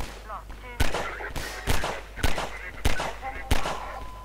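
Machine gun fire in the video game Half-Life 2 comes as five loud, sharp bursts spaced at roughly regular intervals, with game sounds between them.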